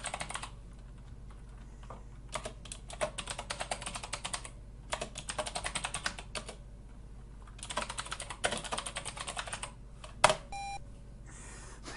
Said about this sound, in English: Type the message below.